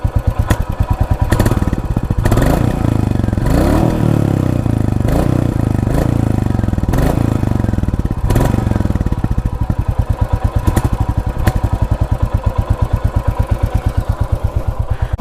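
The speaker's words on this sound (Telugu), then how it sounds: "ఒకసారి ఎగ్జాస్ట్ ఎలా ఉందో వినేసేయండి." A 2025 Royal Enfield Classic 350 with the J-series single-cylinder engine runs alone up close, its steady thumping exhaust beat loud and even with a few blips of revving and light mechanical clatter.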